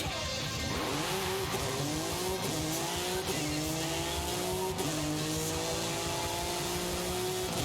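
Honda NSX GTR race car in a racing video game accelerating hard, the engine note climbing through repeated upshifts in a loud, continuous sweep with no talking.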